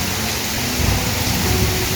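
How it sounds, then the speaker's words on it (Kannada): Heavy stormy rain pours down in Mysuru in a dense, steady roar, with deep gusty rumbling of strong wind beneath it, loud and close. "ಮಳೆ ಮತ್ತು ಗಾಳಿಯ ರಭಸಕ್ಕೆ"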